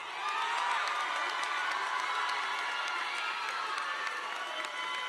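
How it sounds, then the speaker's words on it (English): A graduation crowd at an engineering school applauds and cheers for its graduates, a steady wash of clapping with scattered shouts and whoops lasting throughout, moderately distant and even in level. "Let's give these individuals a round of applause"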